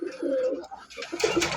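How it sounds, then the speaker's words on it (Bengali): Native old-breed Rajgolla pigeons at a market coo in soft, rolling bursts, fairly close, with a brief pause and then fresh cooing mixed with light background noise. "বন্ধুরা এখানে একজন রাজগোল্লা কবুতর আছে"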